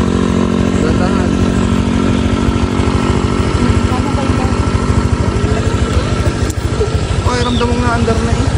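A motorcycle engine runs loudly and steadily close by during a riding lesson, a constant rumbling drone with slight pitch changes as the rider eases along, while people talk over it.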